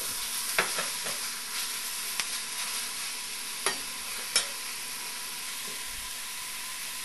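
Gravy beef for a curry fries with a quiet, steady sizzle in a pan, broken now and then by the short scrapes and clicks of stirring.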